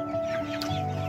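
Young chickens about eight weeks old clucking close by, with soft repeated clucks and a steady tonal background hum.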